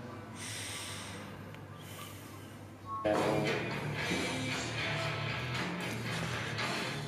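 A person doing a mobility stretch draws full, deep breaths, giving long breathy rushes close to the mic. The breathing grows louder and rougher partway through and continues steadily with no talk.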